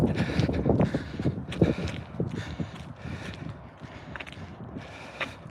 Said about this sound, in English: The wind is very strong right now.